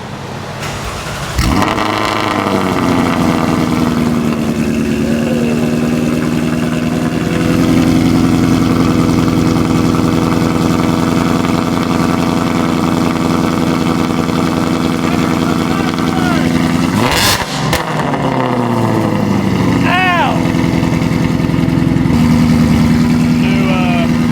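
A Ford Mustang Mach 1 fitted with Kooks longtube headers and a Corsa exhaust cranks and fires up, then settles into a loud, rumbling idle with a sharp rev blip partway through and some talking over it.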